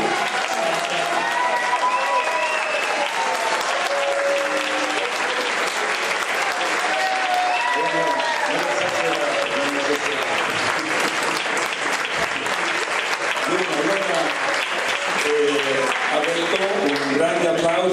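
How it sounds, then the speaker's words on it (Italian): An audience at an anniversary awards ceremony of the Circolo Navarca claps loudly and steadily for about eighteen seconds, dense, sustained applause filling the room with a few voices mixed in. "fare un grande applauso ad Aurelio"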